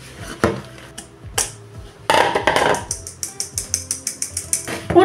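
A crank flour sifter turns while flour is sifted for butter cookies, giving a rapid mechanical ratcheting of evenly spaced clicks along with a few sharper metallic knocks from the bowl and utensils, heard close up.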